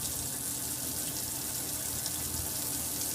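Water runs steadily from a tap into the tank of a floor cleaning machine, a constant hissing, splashing fill with no voices.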